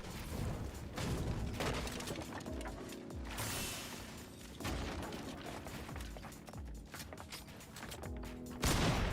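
Assault rifle fire in Fortnite, dense bursts of rapid shots mixed with mechanical clatter and booms, loud and busy throughout.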